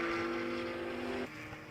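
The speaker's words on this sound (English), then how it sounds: "some cars are accelerating" Race cars accelerating on a circuit during an endurance race, a distant engine drone with a sustained tonal whine that drops away abruptly near the end.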